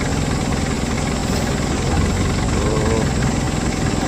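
A Kia Pregio 3.0 engine runs loud and close with a steady rumbling idle throughout, no talk.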